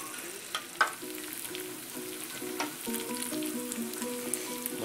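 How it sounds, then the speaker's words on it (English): Mushroom habanero risotto sizzles steadily in a pan while being stirred continuously, with occasional spoon scrapes and clicks up close and faint music underneath. "you're just going to stir it and stir it and stir it."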